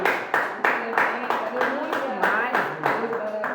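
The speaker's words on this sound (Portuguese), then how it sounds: "Será que Jesus merece uma salva de palmas?" A church congregation clapping in rhythm, a steady beat of roughly three claps per second under a loud voice and singing throughout.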